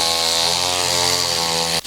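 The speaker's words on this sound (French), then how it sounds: "Pendant que l'esplanade de la chefferie supérieure passe à la tondeuse" Steady, loud buzzing drone of a lawn mower running close by as it cuts the grass of a chiefdom esplanade, then cuts off abruptly near the end.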